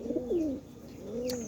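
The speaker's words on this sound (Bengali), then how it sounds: "এখানে এই কবুতরটা আমরা ধরেছি" A pigeon with a cut beak, caught and held close by, gives a few soft throaty coos, a short run at first and another longer coo after a brief pause.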